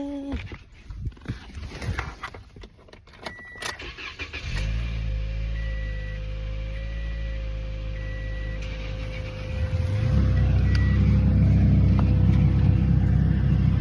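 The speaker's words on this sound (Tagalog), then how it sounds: "Diba yung katabi namin meron siyang car starter." A neighbour's car engine starts by remote starter in snowy winter weather, turning over around the middle and settling into a steady idle rumble that grows louder toward the end, with no talking.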